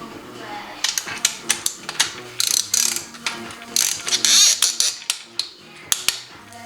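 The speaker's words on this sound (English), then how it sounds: "I'm going to verify that they're all at least 12 foot-pounds" A torque wrench tightening main bearing bolts on a Subaru BRZ engine gives repeated sharp ratcheting clicks in short uneven bursts, with a person talking quietly underneath.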